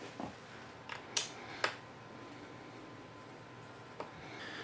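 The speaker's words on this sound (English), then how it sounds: "we've got 8 screws that we need to remove" A handful of short, sharp metallic clicks and ticks from screws being undone on the bottom panel of an Alienware laptop, spaced irregularly and close up against a quiet background.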